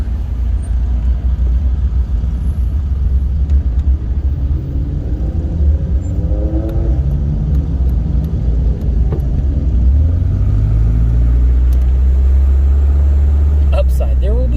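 Worn-out old beater car with a tired engine, rumbling steadily from inside the cabin while driving, a deep continuous drone that swells near the end, with people talking over it.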